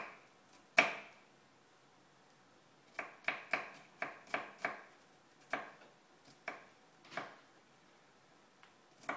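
A knife chops garlic on a cutting board in a home kitchen with close, sharp, irregular taps: one strong hit, then a quick cluster of about eight chops and a few scattered ones, with no talking.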